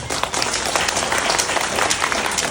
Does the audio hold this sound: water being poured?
no